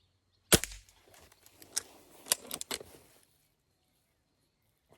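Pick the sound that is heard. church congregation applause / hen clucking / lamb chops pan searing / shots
shots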